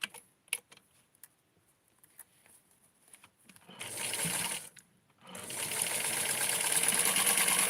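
A sewing machine stitches tulle for doll clothes for a Dawn doll, running in two sustained bursts after a stretch of small clicks and handling noises, with a brief pause between the runs.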